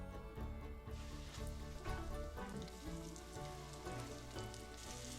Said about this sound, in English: bring a 1/4 cup of grapeseed oil to high heat and place your fillets